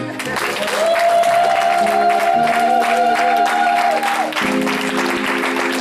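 A church congregation at a Baptist service breaks into sustained applause and some cheering, loud and close, with a sustained tone from an instrument or voice running underneath.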